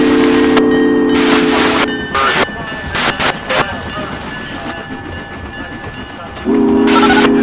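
A simulated NJ Transit train in Trainz 2019 passes a station railroad crossing, its horn blaring in long sustained blasts at the start and again near the end, with rolling rail noise and clatter in between.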